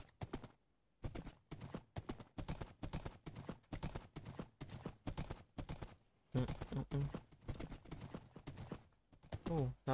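Minecraft horse hooves clip-clop in a steady, rapid rhythm of sharp digital steps for several seconds, fairly quiet, with a brief whinny near the end and a voice talking over parts of it.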